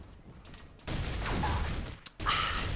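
Rapid gunfire from the Royal Revolver in Pixel Gun 3D comes in a dense rattling burst, breaks off for a moment, then starts again, loud and close with no voices.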